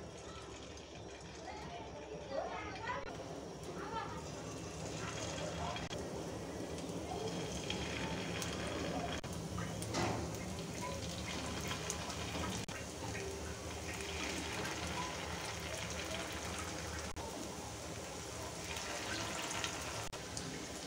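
Chicken and bread kebabs fry in hot oil over medium heat, giving a soft, continuous crackling sizzle that stays quiet and even with no talking.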